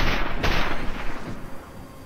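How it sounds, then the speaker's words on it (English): Slow-motion gunfire in the video game Mirror's Edge: a heavy, booming shot with a long drawn-out rumbling tail, loud and close, followed by lower rolling reverberation with no talk over it. "Slow motion gun shooting!"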